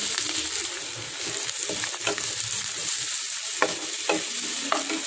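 Chopped onions, green chillies and curry leaves sautéing in a pan for idli upma: a continuous close sizzle broken by repeated scrapes and taps of a stirring spoon against the pan, with no speech.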